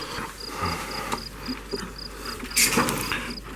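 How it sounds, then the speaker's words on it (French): A small pet cricket chirps in short, regular pulses, close but faint over low household background noise, with no talk. "donc là petit grillon"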